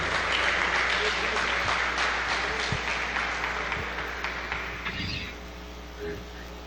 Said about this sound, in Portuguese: É uma linda salva de palmas,